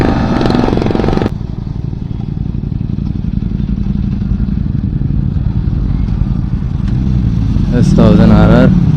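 A Royal Enfield motorcycle engine rumbles steadily and loudly nearby, a continuous low throb with some clatter, while voices talk over it outdoors.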